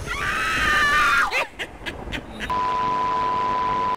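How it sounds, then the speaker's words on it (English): A woman's shrill scream rises and breaks off as a horror sound effect in a video game. A few sharp knocks follow, then a steady electronic tone. "There's also sound effects of a creaking door, along with a laughing man and a screaming woman."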